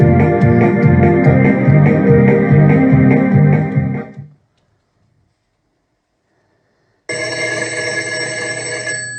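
A telephone bell rings in a steady, loud repeating pattern for about four seconds, then cuts off into silence before a brighter, higher electronic tone begins.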